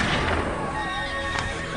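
A horse neighs in a historical documentary scene of mounted conquistadors arriving in the Americas, a drawn-out whinny heard within a dense, loud mix of rumble and other background sound.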